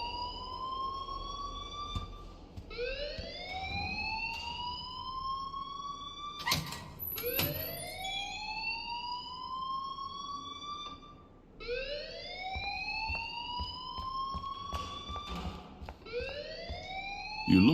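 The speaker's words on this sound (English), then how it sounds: "please turn off that alarm since that's your job" Fire alarm ringing in the Life is Strange video game: repeated rising electronic whoops that sweep upward, each lasting a few seconds, steady and moderately loud, with brief clanks between cycles and no talking.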